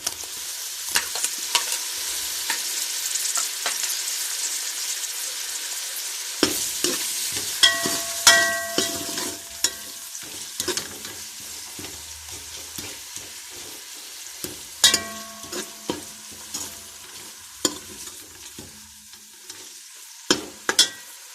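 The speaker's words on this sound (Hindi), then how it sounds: "अब इसमें टमाटर डाल लेंगे" Tomatoes added to meat frying for mater gosht, a constant close sizzle with repeated scraping and clacking of a spoon stirring in the pan, no voices.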